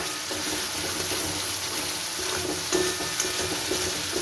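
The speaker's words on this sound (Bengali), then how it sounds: "দেখুন মশলাটা কত সুন্দর কষানো হচ্ছে, তেল গা দিয়ে ছেড়ে উঠেছে" Spice masala for a vegetarian potato curry fries steadily in oil, a dense, even sizzle that hisses without pause, with faint scrapes of stirring rising now and then, close and unbroken by speech.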